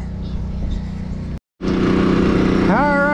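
Small engine on a fuel trailer running near a tractor at a farm, a steady loud drone that cuts out briefly, then resumes and rises in pitch as it is throttled.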